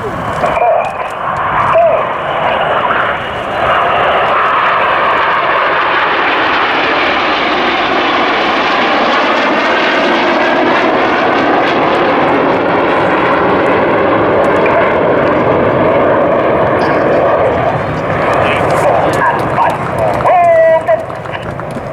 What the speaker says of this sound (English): the pilots are working hard, pushing the aircraft to their aerodynamic limits to keep those rolls as tight as they can